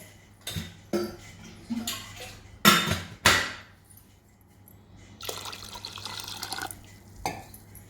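Water splashes and pours into a pressure cooker holding chicken khichda, with sharp clinks of metal vessels and a longer stream of pouring in bursts, close and fairly loud.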